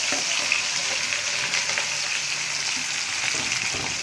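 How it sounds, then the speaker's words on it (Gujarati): Sukhi bhaji, a Gujarati dry vegetable dish, sizzles steadily as it is tempered in hot oil. The close, even frying crackle holds without a break, and no one speaks. "જો હવે આ હાઈ ક્લાસ આ સૂકી ભાજી વઘારું છું સરસ"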